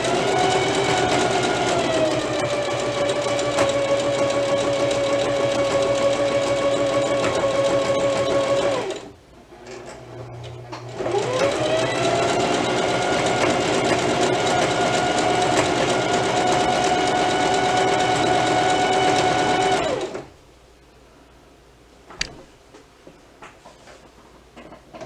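A domestic sewing machine runs at a steady, loud stitching hum for about nine seconds, pauses, then sews again for another stretch before stopping, with faint handling noises afterward and no voices.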